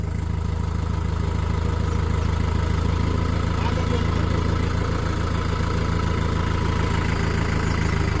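A tractor engine idles steadily nearby, a low, even chugging rumble that stays constant throughout with no talking.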